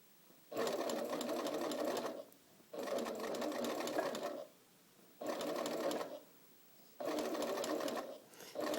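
A sewing machine stitches a curved fabric seam in four distinct bursts of about one and a half seconds each, its quiet even whir separated by short pauses.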